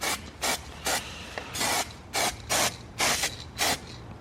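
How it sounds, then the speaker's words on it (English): Short repeated hisses of an aerosol spray can in test bursts over a Datsun 280ZX engine bay, about nine quick sprays in an irregular rhythm with brief pauses between them, close and fairly loud. "Alright, so just a quick test spray."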